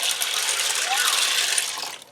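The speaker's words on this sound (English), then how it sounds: "And I'm going to add some water in here. And it's just cool tap water." Cool tap water pours into a cooking pot for one-pot mac and cheese, a steady rushing gush that fills the clip and tapers off at the end.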